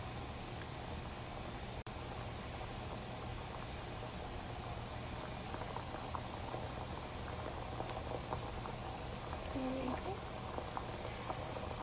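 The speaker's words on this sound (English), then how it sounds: "now once our water is boiling, we're going to carefully drop in our gnocchi, just like that" Pot of water at a rolling boil as kale gnocchi are dropped in, a steady bubbling hiss throughout with faint light plops.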